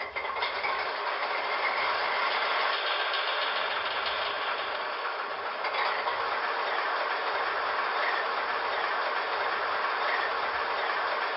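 Steady rumble of an HO scale MTH ALCO FA-1 model diesel locomotive's sound effects, a continuous engine drone with faint rhythmic clicking, close and even throughout.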